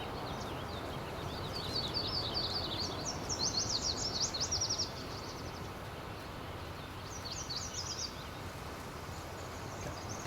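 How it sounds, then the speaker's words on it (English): Birdsong in the Midwest Horizons farmland of Farming Simulator 19: bright chirping phrases repeat through the middle and return briefly near the end, over a steady low rumble of machinery. "now that I'm hearing the birds, it's like I can't unhear them"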